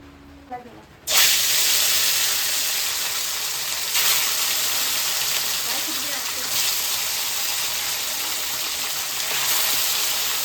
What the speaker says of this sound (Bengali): তুমি তাহলে মাছ ভাজো।